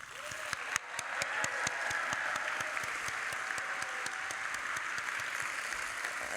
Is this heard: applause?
yes